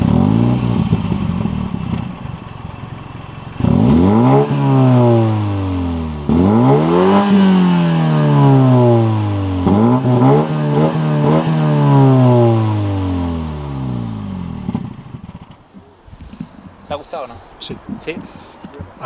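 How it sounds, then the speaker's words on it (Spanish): A Mini car engine with its stock, unmodified exhaust revs repeatedly, rising and falling in several loud sweeping pulls close by, before dropping to idle and clatter, with people talking over it. "O sea, el escape está de serie, o sea, no hay nada cambiado, suena así"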